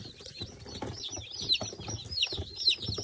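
Newly hatched chicks peep softly and intermittently in an incubator on pine shavings, faint high chirps close by over a quiet background.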